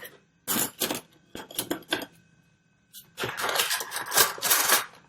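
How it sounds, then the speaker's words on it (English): Metal spoons clatter and clink as they are gathered and put away after an art lesson, coming in several close bursts of jangling cutlery, with a longer run of rattling toward the end. "I'll put all of the spoons back"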